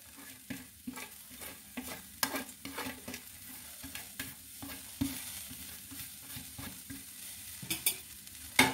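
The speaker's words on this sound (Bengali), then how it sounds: "শুধু ড্রাই নাড়বো, তারপরে এটা পেস্ট করে নেবো মিক্সিতে" Chopped coriander leaves dry-stirred in a kadai, with soft scraping strokes and light crackle in an irregular rhythm, fairly quiet and close, with no talking.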